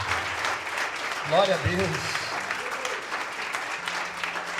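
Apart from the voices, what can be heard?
church congregation applause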